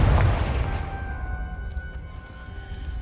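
Confringo blasting curse exploding in the video game Hogwarts Legacy, one close heavy boom that decays into a rumbling tail with faint ringing tones lingering afterward.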